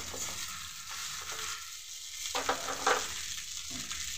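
Vermicelli stirred and fried in a pan, a steady close sizzle with scraping strokes of a spoon that swell and fade in uneven bursts.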